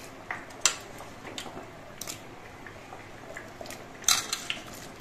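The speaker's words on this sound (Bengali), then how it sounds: "এবার এর মধ্যে আমি চাল কুমড়ো গুলো দিয়ে দিচ্ছি।" Pieces of ash gourd drop into a pot of boiled kalai lentils with soft, scattered clinks and wet plops, faint and sparse against a quiet kitchen background.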